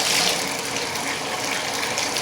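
Water gushes steadily from a Glacier Bay faucet, a close, continuous hissing rush that stays even throughout with no voices.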